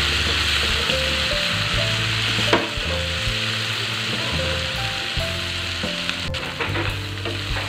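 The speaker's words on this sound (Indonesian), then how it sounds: "Sekarang kita tumis bumbunya sampai benar-benar matang." Balado chili spice paste sautéing in a pan for chicken balado, a steady loud sizzle and frying hiss with stirring scrapes throughout and a sharp clank partway through, no voices.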